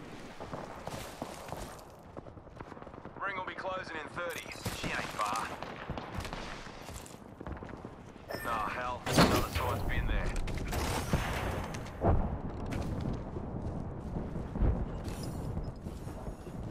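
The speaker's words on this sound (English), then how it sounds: "Fire me, knuckle cluster." Fuse's Knuckle Cluster ability fires in Apex Legends, a burst of crackling gunfire-like pops and blasts layered with other game effects and a voice talking over the action.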